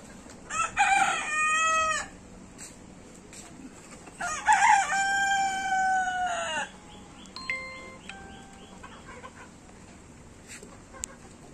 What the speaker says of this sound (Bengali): এই সবগুলো আমার ডিম পাড়া মুরগি।